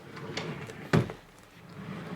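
A drawer opening in an IKEA-furnished art studio and scrap room: a single short, loud sliding thump near the middle, set against a faint room background and soft handling sounds.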